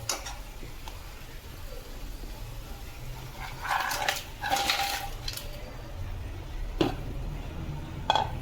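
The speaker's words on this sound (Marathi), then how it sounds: "तर आता आपण ह्याच्यामध्ये खेकडे घालून घेऊया." Crabs tumble into spiced masala in a cooking pan, giving a cluster of close clattering and scraping knocks in the middle, with a later sharp clink over a steady low kitchen hum.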